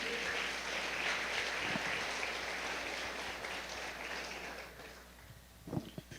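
A church congregation applauds together in a continuous broad wash of clapping that gradually thins and fades toward the end, with a few louder scattered claps.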